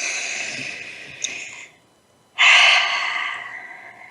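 A slow, deep breath drawn in during a guided moment, heard alone as a soft airy rush with a pause, then a louder, fuller intake.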